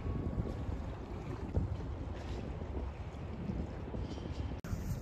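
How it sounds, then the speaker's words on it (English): Strong wind buffets the microphone with a constant low roar and rumble, loud and close, with no voices. "it's super windy"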